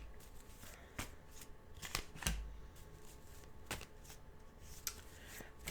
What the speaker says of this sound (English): I'll pull the cards for them.